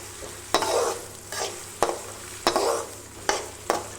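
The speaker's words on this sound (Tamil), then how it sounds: "இதை நல்லா வதக்கி விட்டுக்கலாம்." Whole onions and curry leaves sautéing in a pan for a goat head curry: a steady sizzle broken by sharp spoon scrapes and stirring strokes about every second, close and clear with no talk.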